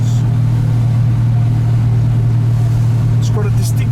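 A Ford GTHO Phase 3 tribute muscle car engine idles or cruises with a steady, lumpy low rumble from inside the cabin, continuous throughout with faint higher noises near the end.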